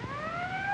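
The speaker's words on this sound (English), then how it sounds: "There's the ambulance now." An ambulance siren from a 1940s film gives one brief, steady wailing tone that rises slightly in pitch, heard alone and fairly loud.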